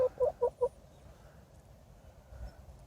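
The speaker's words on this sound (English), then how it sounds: "Let's have a chicken interlude." Backyard hens in a spring garden give four quick, soft clucks at the start, then only faint outdoor background follows.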